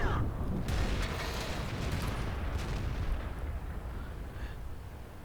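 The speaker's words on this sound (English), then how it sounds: "They drop an airstrike on me and Dwight." Airstrike explosions in World of Tanks hit in a heavy, rumbling barrage of booms with sharp bursts at the start, then a long low roar that slowly fades.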